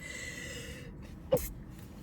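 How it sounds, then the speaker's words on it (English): A single sharp sneeze bursts out near the end of a quiet stretch in a room, brief and fairly close, with faint background hum before and after it. "I'm going to sneeze"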